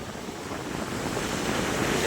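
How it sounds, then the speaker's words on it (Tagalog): Sea waves roll onto the beach at Bucana under a strong habagat monsoon wind, a steady, loud wash of surf and gusting wind noise that builds slightly over the stretch, with no voices. "yung alon ngayon, oh. Dahil nalakas yung habagat."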